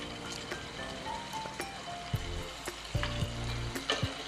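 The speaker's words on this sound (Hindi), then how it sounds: "अब हमने इसकी थोड़ी सी भुनाई करनी है 5 मिनट" Beef stew meat browning in a pot, a steady close sizzle with occasional spoon knocks and scrapes against the pot as it is stirred, no talking.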